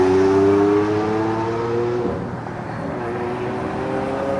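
Lamborghini Aventador with its V12 engine drives out of a car show setting, a loud, steady engine tone that drops and smooths out partway through as the car pulls away. No voices are heard.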